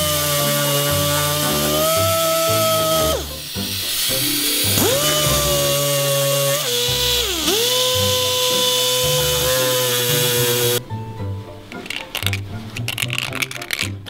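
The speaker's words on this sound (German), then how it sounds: "ich fräse das noch ein bisschen aus, damit diese Übergänge wirklich super schön passen" A power tool mills out the transition on a scooter intake manifold, giving a loud high whine that dips and rises in pitch as it bites, pausing briefly before ending in scratchy grinding bursts.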